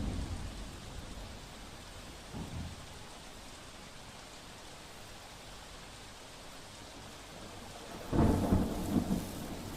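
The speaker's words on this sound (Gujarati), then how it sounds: "ડાંગ જિલ્લામાં પડ્યો છે ધોધમાર વરસાદ" Heavy rain pours steadily across the hills of Dang district in Gujarat near Saputara, with low rumbles of thunder swelling briefly early on and again more strongly near the end.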